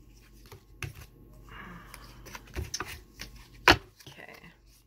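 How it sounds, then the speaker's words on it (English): Soft riffling and tapping of tarot cards being shuffled nearby, quiet scattered clicks with one sharper snap, with low talk in the background. "I love everything about the shuffling."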